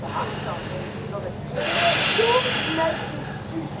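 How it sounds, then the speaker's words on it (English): Slow, audible Ujjayi breaths with a soft hissing in-and-out pass during an outdoor yoga class, heard close under an instructor's calm spoken cues. "Hear your Ujjayi breathing"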